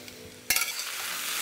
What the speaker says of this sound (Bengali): সবজিগুলো খুব ভালোভাবে ভাজা হচ্ছে